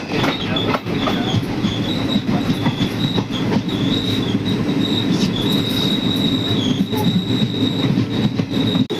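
A loud train rolls steadily close by at Karaikudi railway station, wheels squealing in a sustained high whine over a continuous rumble and rattle.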